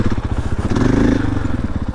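Husqvarna FE 501 four-stroke dirt bike ridden off-road, its big single-cylinder engine chugging in a steady, close, loud rhythmic thump that swells briefly as the throttle opens, with clatter and scrapes over the terrain.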